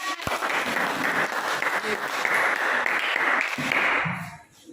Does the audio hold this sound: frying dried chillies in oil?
no